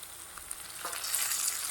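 Curry leaves dropped into hot oil over fried onion, a close sizzle that swells into a bright, loud spitting crackle within seconds, with no talking.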